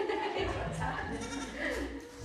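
Goats bleating at a local goat yoga class, several calls rising over steady background talk and room noise, fairly close.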